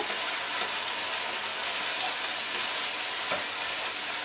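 Malabar spinach and dried loitta fish frying in a pan, a loud, steady close-up hiss of sizzling with a brief stirring scrape near the end.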